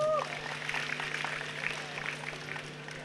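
A crowd claps in a room, a steady patter of applause at moderate distance, with a brief voice at the start.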